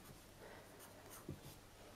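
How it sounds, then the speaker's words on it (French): Pencil strokes on paper sketching tree leaves: quiet, close scratchy scribbles in short repeated bursts with a faint tap, no talk. "je peux aussi dessiner de façon plus détaillée des feuilles"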